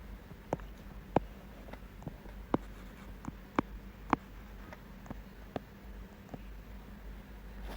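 A pen writes out a chemical reaction on paper, a quiet run of scratchy strokes and sharp taps at an uneven pace, close to the microphone with no voice over it.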